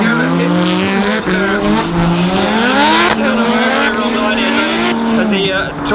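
Drift cars at the British Drift Championship at Rockingham Speedway sliding through a corner, engines screaming with rising and falling revs over continuous tire squeal, loud and close, while a commentator talks excitedly over the action.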